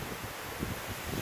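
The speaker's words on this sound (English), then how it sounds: "It's pretty windy today, as you can see from the cottonwood tree whipping around." Gusty wind tearing through a cottonwood tree on a homestead, a steady broadband rush and leafy rustle with faint swells, close and moderately quiet, no voices.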